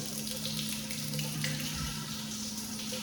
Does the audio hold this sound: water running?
yes